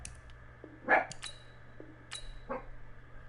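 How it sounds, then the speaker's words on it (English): Nala the dog gives a couple of short barks and yips at medium distance over a quiet room hum, with sparse, separated bursts. "That's my dog named Nala."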